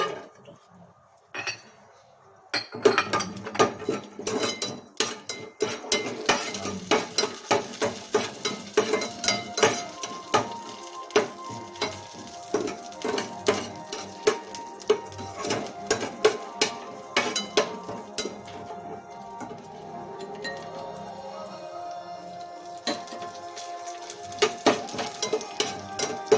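Cashews and cardamom roasting in ghee in a pan, stirred with a metal spoon that clinks and scrapes against the pan in quick, uneven taps, close and fairly loud throughout.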